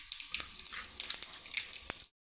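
Cumin seeds crackling and sizzling in hot oil for a tempering, with mustard seeds already popping, for a traditional Khandeshi bajra vada curry; a dense, steady hiss with a few sharp pops, close and fairly loud, cutting off abruptly.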